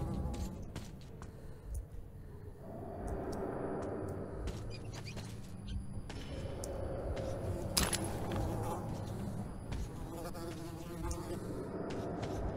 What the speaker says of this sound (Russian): Ебучие мухи.